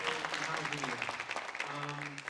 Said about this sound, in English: A big round of applause for all of the students.